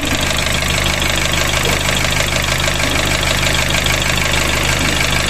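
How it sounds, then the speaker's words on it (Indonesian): A car engine runs roughly with a constant loud drone and a fast knocking vibration close by, a fault that comes with the oil indicator light being on. Nobody speaks. "suara mesin itu kasar"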